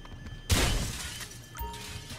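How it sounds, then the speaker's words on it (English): A window's glass is shot out in Grand Theft Auto V: one sudden loud shatter, then a brief trail of falling shards and a second smaller crack, with no talk. "Shoot out the window."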